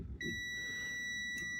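A sharp electronic beep from a meter as its probes touch the compressor pins of a KitchenAid built-in refrigerator, one steady high tone starting abruptly and holding, with a brief second blip near the end.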